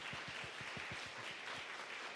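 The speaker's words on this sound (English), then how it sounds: "give everybody a round of applause" Applause from a conference panel audience, a dense patter of many hands clapping at moderate, fairly faint level throughout, with no voices over it.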